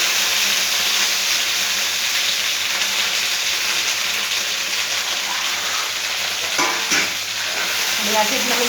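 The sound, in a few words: okra (lady finger) deep frying in oil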